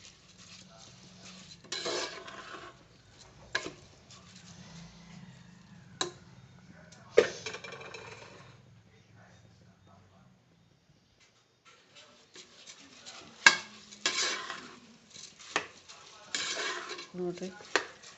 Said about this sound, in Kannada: ಇದನ್ನ ಸ್ವಲ್ಪ ಹಿಂಗೆ ಮಿಕ್ಸ್ ಮಾಡಿಕೊಡ್ಬೇಕು ಚೆನ್ನಾಗಿ ಎಲ್ಲ ಮಿಕ್ಸ್ ಆಗೋ ತರ